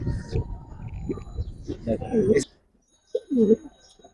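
Large domestic pigeons, a breeding pair, give low throaty cooing in two bursts separated by a short silence, close by with faint background noise.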